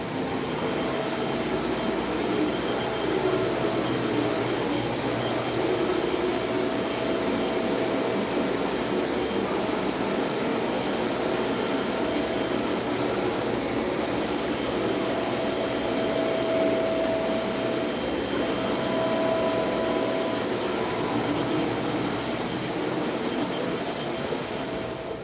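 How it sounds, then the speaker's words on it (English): A Mimaki large-format printer prints 24 by 36 inch foam core posters. It gives a loud, continuous mechanical whir and hum with faint tonal whines that stays steady from start to end, and no one speaks. "We have a printer called a Mamaki. I'll show you the"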